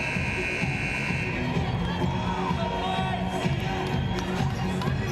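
A basketball arena crowd at an NCAA Division III women's tournament game at DeVos Fieldhouse does a crowd dance, a dense wash of many voices with music and cheering carrying steadily throughout.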